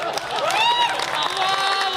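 A crowd at a live Hindi comedy or poetry show applauds, dense clapping and cheering fill the space, and a voice rises and falls over the top.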